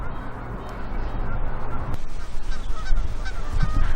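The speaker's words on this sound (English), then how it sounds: "the constant sound of the Canada geese in the background" Canada geese honk continuously in the background beside Rydal Water in the Lake District, a steady, moderately loud chorus under faint ambient noise.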